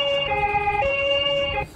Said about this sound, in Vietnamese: Xe cứu thương.